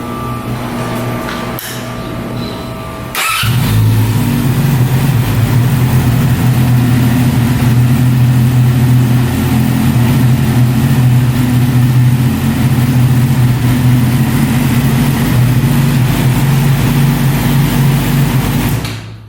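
A motorcycle engine with no exhaust starts with a sudden burst and settles into a loud, steady, rough idle that drones on unchanging, close by.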